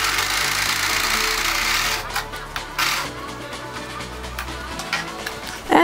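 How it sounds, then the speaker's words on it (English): An overlock sewing machine stitches polo shirt fabric, a steady dense whirring run for about two seconds, then quieter intermittent mechanical clatter and short bursts until the end. "Just let it slide through the overlock."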